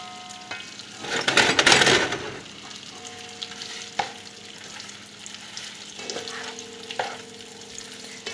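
Food browns in a pan with a steady, close sizzle. A loud burst of frying and stirring rises early, then scattered pops and utensil scrapes sound over the ongoing crackle.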